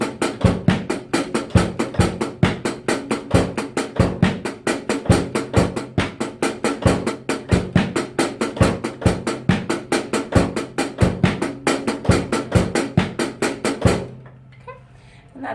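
A fast sixteenth-note drum groove on a kit, with dense, evenly spaced hits running steadily at a brisk tempo, close and loud, ending abruptly into near silence.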